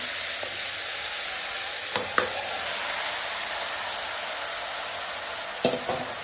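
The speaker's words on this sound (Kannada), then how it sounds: "ಅಕ್ಕಿ ಚೆನ್ನಾಗಿ ಫ್ರೈ ಆಗಬೇಕು ಎಣ್ಣೆಯಲ್ಲಿ" Rice crackles and sizzles steadily in hot oil, with a couple of brief scraping stirs, no talking.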